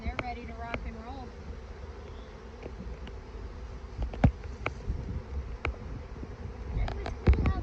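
Honey bees buzz softly around an open hive during winter preparation, a steady low drone with occasional knocks of frames and faint voices nearby.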